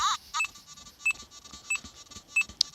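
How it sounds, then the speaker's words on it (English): Short electronic beeps from a Nokta Makro Simplex metal detector repeat at a steady pace, four or five evenly spaced tones, close and clear, with a brief chirp near the end, during ground balancing. "It's beeping at me."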